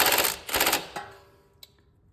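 A pneumatic impact gun hammers at the lower strut bolt of a Dodge Journey in two close, loud rattling bursts, then a short tap as it dies away.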